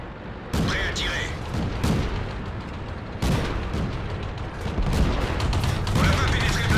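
Tank cannon shots and impacts boom in the World of Tanks video game, several sharp blasts spread across the clip amid game sound effects, with occasional speech mixed in.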